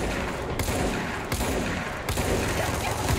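Video game gunfire crackles in rapid bursts, a dense, loud stream of shots with a few sharp breaks between volleys, with no talk over it.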